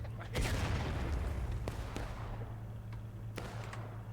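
Cannon fire booms across a Ghosts of Antietam Civil War battle: one heavy blast, then a few sharper reports, over a steady low rumble of distant battlefield noise.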